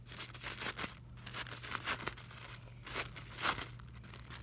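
Scissors cutting strips into a plastic milk bottle, a series of crinkly, tearing snips and plastic crunches at close range, repeated irregularly over a low steady hum.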